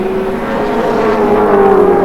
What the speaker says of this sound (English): he'd like to go quicker if he could get by the two big thumping Holdens between he and Longhurst.